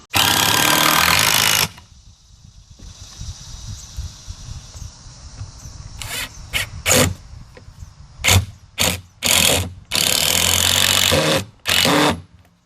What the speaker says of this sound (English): we'll go around and screw up all of our holes with screws